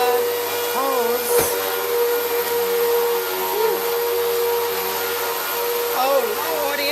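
A vacuum cleaner runs in a bedroom with a steady, loud whine that holds throughout, with short bursts of talk over it.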